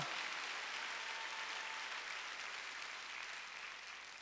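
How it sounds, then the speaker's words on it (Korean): A large church congregation at a Sunday service applauds in a dense, continuous wash of clapping that eases off slightly toward the end. "깨달은 사람만 박수"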